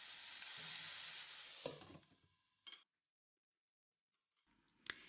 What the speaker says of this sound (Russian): Наливаю в сковороду масло, выкладываю туда баклажаны и обжариваю их до готовности.